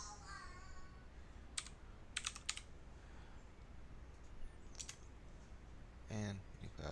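Someone types a username on a desktop computer keyboard while setting up Debian under WSL2, with a few scattered, faint keystroke clicks in short clusters over a quiet background.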